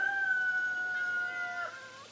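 A cat named Grumpy gives a long, drawn-out meow near the listener, a steady tonal cry with slight pitch bends that fades near the end, with no talking over it.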